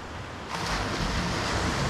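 Coastal wind buffets the shore on an ocean fishing trip, a sudden gust swelling halfway through into a steady rushing roar mixed with surf.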